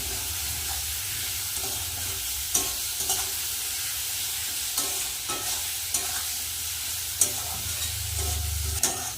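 A spice masala with chilli powder and a little water is stirred and fried in a pan, giving a steady close sizzle with repeated sharp scraping strokes from the spoon every second or two.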